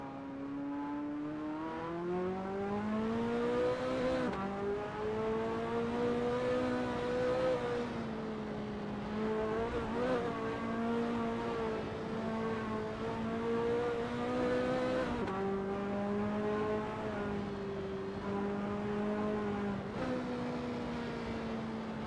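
A Ferrari F40 race car at Sonoma Raceway in a racing game, its engine droning loud and steady for a long stretch, pitch rising and dipping through gear changes and corners, with no voices.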